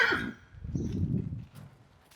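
A mare shifting about while being milked, with a short burst of hoof clops and shuffling on the ground, close by and moderately loud, then fading to quiet.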